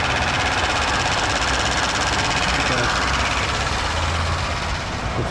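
A car engine runs with the hood open, a dense, steady mechanical whir and rattle close by, with the AC compressor working under the continuous drone for several seconds.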